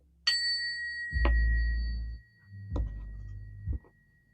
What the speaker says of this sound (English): I'm gonna ring the bell before we get started.